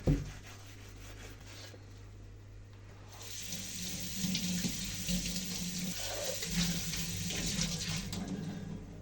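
Tap water runs steadily into a sink while a burnt teakettle is rinsed and rubbed under it. A close, continuous splash with faint scrubbing and handling noises, and no talk.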